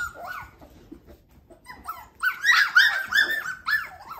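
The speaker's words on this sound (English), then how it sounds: "see if they'll stop yapping at me and go play" Litter of young F1b Cavapoo puppies yapping indoors, a run of high-pitched yips and whimpers that start sparse and faint, then grow into a louder, denser burst of overlapping barks near the end.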